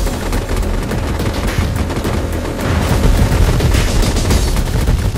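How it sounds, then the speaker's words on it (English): A cluster bomb strike lands in the shooter MAG as a dense, loud barrage of rapid blasts and crackling gunfire-like bursts that swells toward the end, with no talk. "He's gonna call in a cluster bomb to clear the enemy off this wall and secure the point"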